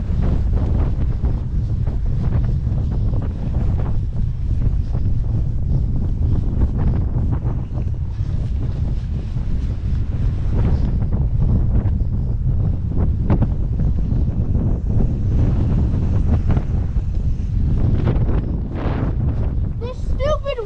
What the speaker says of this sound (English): This stupid wind!